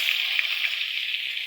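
Onion, garlic paste, chili paste and cumin paste sizzle in a hot kadai, a close, steady frying hiss with small crackling pops and no talking.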